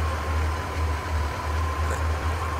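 Kamaz 5410 truck engine in Euro Truck Simulator 2 running at low revs, a steady deep idling drone with a faint whine, continuous and close, no talk.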